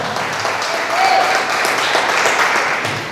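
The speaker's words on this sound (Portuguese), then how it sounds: "Aplauda o Senhor mais forte." A church congregation applauds during a sermon, a steady wash of clapping from many hands, with a voice faintly mixed in beneath it.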